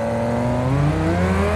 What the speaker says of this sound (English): The engine's still cold.